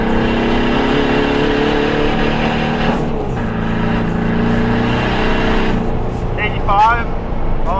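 A stanced Volkswagen TDI with a manual clutch accelerates along a straight, heard from inside as a steady engine drone whose pitch rises and shifts through gears beneath someone talking.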